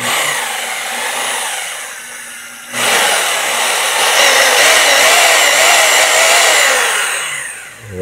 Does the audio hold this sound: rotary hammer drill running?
yes